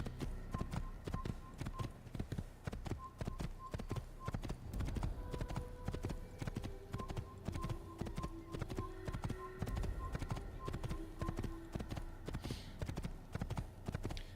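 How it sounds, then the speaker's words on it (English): A horse in Assassin's Creed gallops along in quick, rhythmic clip-clop hoofbeats, steady and close, with musical tones and faint voices layered underneath. "Curious if I could actually, you know, get my horse here to jump over said bridge."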